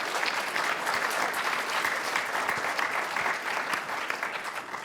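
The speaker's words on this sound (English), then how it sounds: "Let's give them a round of applause as well." Steady, enthusiastic applause from a sizable crowd, dense clapping sustained at full volume throughout with no voices standing out.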